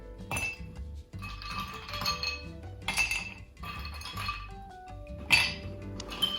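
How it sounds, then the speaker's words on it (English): Ice cubes clink and rattle into a glass mixing glass for a cocktail, several bright bursts of clinking in an irregular rhythm, close and clear with no talking. "Add some ice to your mixing glass."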